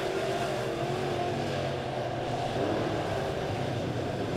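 Dirt track modified race cars roar around an oval in an A-class main event at Springfield Raceway, a dense, steady engine drone from the pack holding at a constant loud level throughout.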